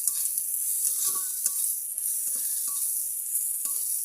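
Onions frying in a pan, a steady high hiss of sizzling oil with occasional clinks and scrapes of stirring, close and continuous.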